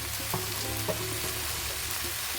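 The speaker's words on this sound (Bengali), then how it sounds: "তারপরে এটাও আমি কষিয়ে নেবো একটু পালং শাকটা সবজির সঙ্গে ভালো করে" Spinach sautéed with mixed vegetables in a pan gives a steady, close sizzle with occasional stirring scrapes, no voices.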